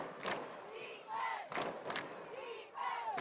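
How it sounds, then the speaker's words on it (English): A high school football crowd backing the Imperial Tigers chants in rhythmic bursts, the repeated shouts rising and falling a few times at a moderate distance, fairly faint. "the crowd is chanting defense here for the Imperial Tigers"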